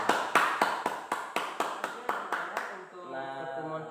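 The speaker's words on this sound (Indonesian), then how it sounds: "Kasih aplaus dulu kepada kawan-kawan kita." A classroom group claps in steady unison, about nine evenly spaced claps at close range, followed by a short sustained tone.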